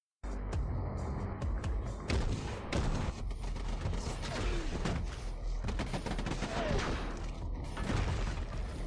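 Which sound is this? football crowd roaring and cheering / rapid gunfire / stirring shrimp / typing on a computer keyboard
rapid gunfire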